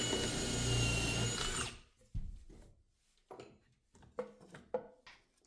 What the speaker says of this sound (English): this one's going to call for pocket holes